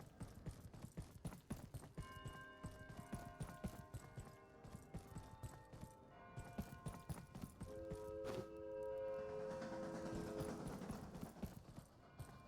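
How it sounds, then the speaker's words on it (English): A train in the video game Abiotic Factor rattles along in a fast, even run of clacks, with sustained tonal whines swelling partway through; the sound is fairly faint and steady throughout. "the train will kill you if you stand in front of it."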